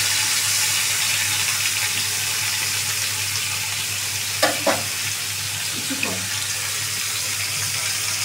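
Cauliflower fries in a pan with a steady, broad hiss of oil under a low hum, broken near the middle by a few short scrapes and clinks of a utensil.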